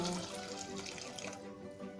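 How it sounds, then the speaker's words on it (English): Water pouring steadily into a pot of Jamaican stewed peas, a close, continuous splashing gush that thins out toward the end, with no talk. "we're just gonna add some more water to this"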